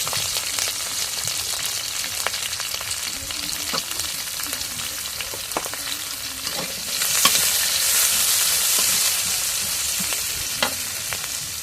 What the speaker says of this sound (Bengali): মরিচ পেঁয়াজ রসুন ভাজা হয়ে গেছে